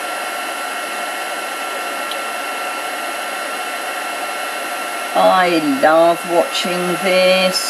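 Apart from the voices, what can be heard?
heat gun blowing on embossing powder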